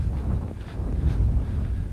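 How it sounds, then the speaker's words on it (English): Outdoor wind buffeting a microphone, a low rumbling, fluttering roar that swells and dips continuously, fairly loud and close with no speech over it. "It's pretty windy. I hope you folks can hear me."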